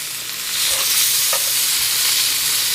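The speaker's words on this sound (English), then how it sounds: "here I have the sausages that I'm browning." Sausages browning in a pan, a loud steady sizzle of hot grease close by with a couple of faint scrapes underneath.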